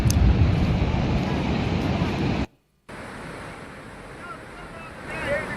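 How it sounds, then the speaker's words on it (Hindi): Floodwater after a cloudburst in Himachal rushes in a loud, continuous roar mixed with wind noise, cut by a brief silent gap midway before the torrent continues slightly softer. "कैसे फ्लड आ रहा है, बहुत पानी हो गया।"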